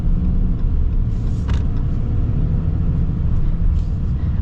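A 2024 Ram 3500 Limited heavy-duty pickup with 1,075 lb-ft of torque accelerating, heard as a steady, loud low rumble of engine and road noise that holds throughout without talk.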